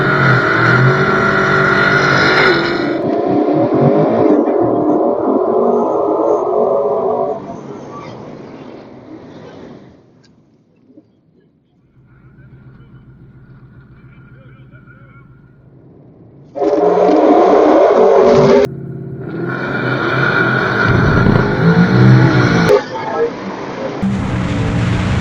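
Tesla Plaid launching against a Hellcat down a quarter-mile drag strip: loud roaring bursts of speed, a long quieter lull with faint motor hum, then renewed loud rushing noise near the finish.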